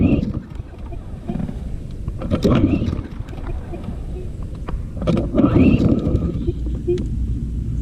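A Troy-Bilt TB200 lawn mower with a 625EX series engine is pull-started and fails to start: a few rasping cord pulls crank the engine without catching, heard close with outdoor wind noise.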